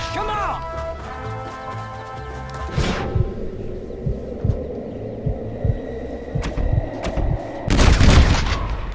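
Gunfire during a hunt in Red Dead Redemption: a string of sharp, irregular shots that crack out after the first few seconds, with a heavy burst near the end, over a low rumbling game soundscape and occasional voices.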